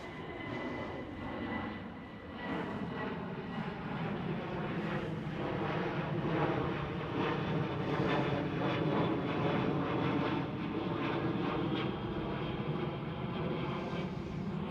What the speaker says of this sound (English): That's a KLM 737.